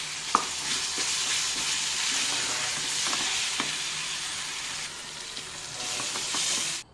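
Ground spices, coriander powder and turmeric, sizzle and fry steadily in hot oil in a pan for chilli gravy, a continuous close crackling hiss with occasional stirring clicks and no talk.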